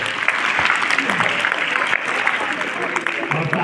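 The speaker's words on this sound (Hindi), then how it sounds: "हाँ बहनों के लिए एक बात ताली लगा" Audience applauding at a Patanjali Yogpeeth youth yoga event in Haridwar, a dense, steady wash of clapping that runs the whole time at close range, with no break in the sound.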